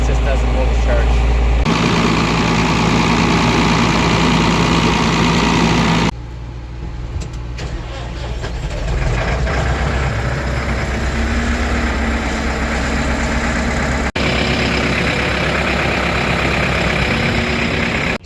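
An old Ford engine with a weak, poorly holding battery runs at a loud, steady idle, with a low rumble throughout and a brief break partway through.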